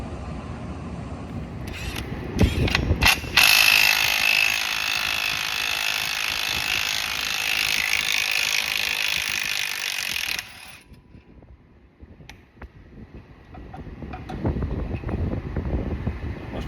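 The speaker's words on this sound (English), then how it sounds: "So let's go ahead and get this electric clutch off of here. It's a 5/8. I'm just going to use my little 3/8 impact." A small 3/8-inch impact wrench working loose a 5/8 bolt on the electric clutch of a Hustler Raptor mower, a loud continuous rattling hammer lasting several seconds before cutting off.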